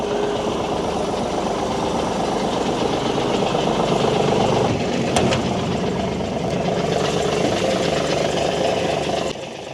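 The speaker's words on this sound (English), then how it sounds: "it's a 400 horse big cam Cummins" A 400-horsepower big cam Cummins diesel engine idles steadily and loudly up close, with a constant rumble throughout and a slight drop in level just before the end.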